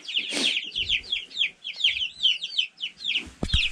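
Two-week-old chicks give a rapid stream of high, close peeps with a few soft clucks and thumps of handling underneath, moderately loud.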